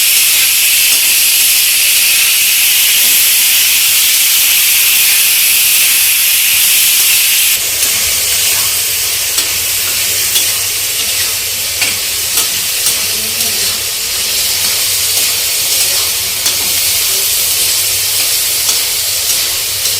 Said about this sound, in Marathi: हळदी आणि मिठामध्ये पावटा चांगला परतून घ्यायचं जरा